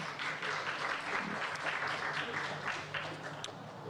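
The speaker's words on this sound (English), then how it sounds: "Big round of applause for Mr. Palahi." Sustained applause from an audience honoring a poet at a Punjabi community event in Punjab Bhawan, a dense steady wash of many hands clapping at moderate distance, with some voices faintly mixed in.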